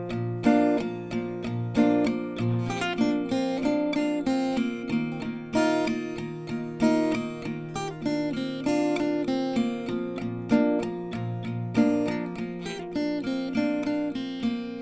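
An acoustic guitar plays the intro of a song, with a steady, continuous strumming rhythm and a picked melody woven through it, close and full, no talk.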